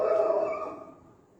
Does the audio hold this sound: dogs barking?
yes